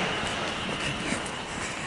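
Train leaving Winnersh station on the Reading line, a steady broadband rumble and hiss of rolling wheels, moderately distant and even for a brief moment.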